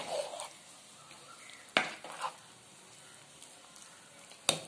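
A few sharp clinks and scrapes of a spoon against a pot of bisibelebath mixed with chili powder over a quiet background hiss, spaced irregularly like stirring.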